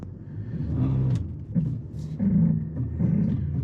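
A 2022 Nissan Pathfinder in sand mode, locked in first gear with the pedal floored, gives a low, rumbling engine drone that swells and dips unevenly, heard close from inside the vehicle.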